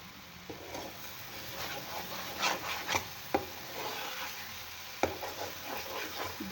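Food stirred in a pan over a very low flame, close scraping and rubbing strokes with a few sharp utensil taps against the pan and a faint sizzle beneath, no voices.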